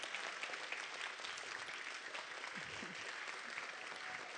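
Audience at an awards ceremony applauding performing students, a continuous broad wash of many hands clapping with faint crowd murmur and a brief voice in the middle.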